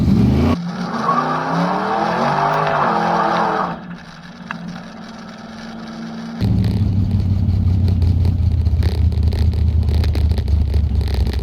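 A car engine roars and revs up close, then drops away briefly before a loud, steady driving rumble resumes with gritty road noise as the tires kick up cinders.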